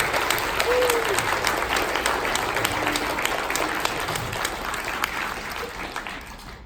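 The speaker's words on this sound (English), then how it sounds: "Give yourselves a round of applause for sharing this space today" Steady applause from the audience at a trans youth summit keynote, fairly loud and continuous, slowly fading across the few seconds with faint voices underneath.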